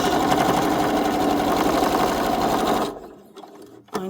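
A sewing machine stitches fabric patches in a fast, steady mechanical rattle for about three seconds, then stops, leaving a few faint handling clicks.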